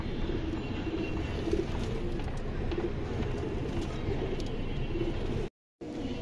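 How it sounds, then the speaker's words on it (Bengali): Silver pigeons cooing at a pigeon market stall, a steady low murmur of coos under constant background noise, with a brief dropout near the end. "অসাধারণ একটা কবুতর"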